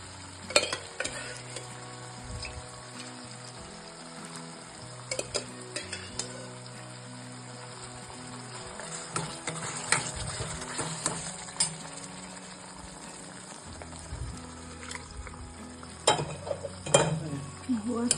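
Mutton sizzles steadily in hot oil in a home kitchen, giving a continuous frying hiss with scattered clinks and scrapes of a stirring spoon that grow busier toward the end.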